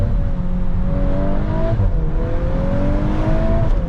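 A 2022 Audi RS3 or VW Mk8 Golf R pulls hard toward redline, its engine note climbing steadily, dipping at an upshift and rising again, loud and close from inside the car.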